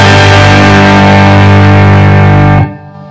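A guitar amp cranked to full volume with its power tubes driven into heavy distortion, sustaining a loud, thick distorted chord for over two seconds before cutting off sharply to a fading hum.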